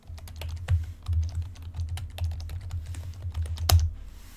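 Someone types a username and password into a login portal on a computer keyboard, giving a quick irregular run of close, crisp key clicks with a few heavier strokes and no voices.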